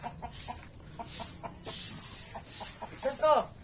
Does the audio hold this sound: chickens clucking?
yes